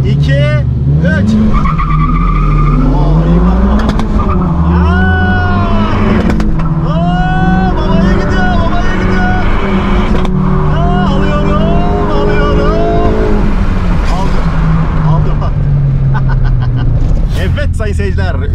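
A 300 hp Tofaş Doğan SLX with open exhaust races a 295 hp BMW, engines revving hard and climbing through gears with tire squeal, loud and close, while a voice talks over the noise.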